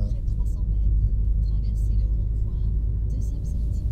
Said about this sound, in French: la voiture, elle est passée sur le rond-point. Sans à-coup, elle a freiné, elle a réaccéléré.